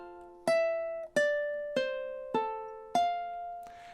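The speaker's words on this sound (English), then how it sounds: "So in time, 12 should sound like this" Ukulele playing measure 12 of a song: five plucked notes or chords in an even rhythm, each ringing and decaying. Up close and alone, with a faint soft noise at the end.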